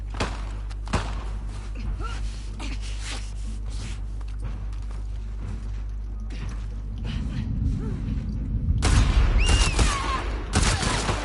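Rapid gunfire bursts from The Last of Us Part II, a loud fusillade of repeated shots and thuds over a steady game background, growing denser and louder near the end.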